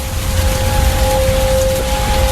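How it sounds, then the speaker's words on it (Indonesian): Steady heavy rain pours down continuously, a loud broadband wash with a faint steady tone running beneath it and no voices. "hujan turun dengan deras"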